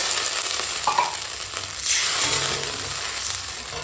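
Ginger, garlic, onion, tomato and green chili masala sautéing in a pan, a steady close sizzle with stirring scrapes throughout, no voices.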